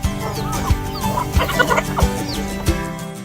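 Chickens clucking at a poultry farm on a rice-growing homestead: busy, close clucks and squawks with sharp repeated calls from several birds, and a turkey-like gobble mixed in.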